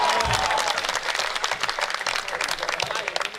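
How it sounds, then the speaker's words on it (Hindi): Audience applause from a crowd at a Hindi comedy or political satire stage event, a steady dense patter of clapping filling the space throughout, with some voices underneath. "तालियां कमजोर हैं आपकी।"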